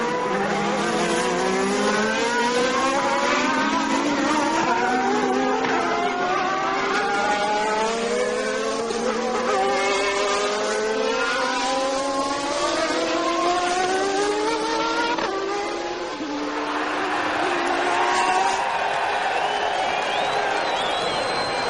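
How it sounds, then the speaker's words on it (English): Formula One race cars pass on track, their high screaming engines rising and falling as they come and go, layered over each other at steady loudness with a faint crowd underneath. "Eric Bernard goes through in the Lola Ford and takes the Ligier Lamborghini of Eric Comas."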